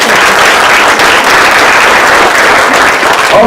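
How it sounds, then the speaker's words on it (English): Loud, dense applause from an audience at a Monterey County Women's History Month event honoring the assistant clerk of the board, a steady wash of many hands clapping throughout without a break. "we want to just give her a big round of applause"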